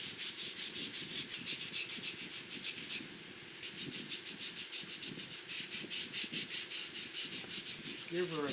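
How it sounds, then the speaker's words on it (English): Steady back-and-forth hand sanding on wood, a rhythmic rasping scrape repeating roughly twice a second, briefly pausing midway before resuming at the same pace. "Give her a good sanding, boys."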